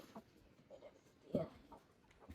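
Hens clucking in a small backyard coop, a few short soft clucks scattered over a quiet background, faint and somewhat distant.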